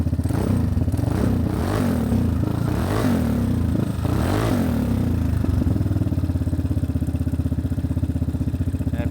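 A Vespa Sprint scooter fitted with an Akrapovic exhaust runs with a deep, steady engine note up close, swelling through a few quick revs before settling into an even idle.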